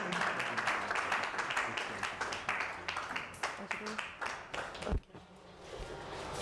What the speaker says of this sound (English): can we clap for Enas Enahoro for a wonderful presentation?